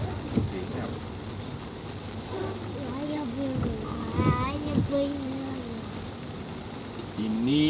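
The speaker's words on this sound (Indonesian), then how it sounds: "Suasana hujan." Steady light drizzle patters in the background on a street in Kendari, Southeast Sulawesi, while people talk intermittently, with a vehicle hum underneath.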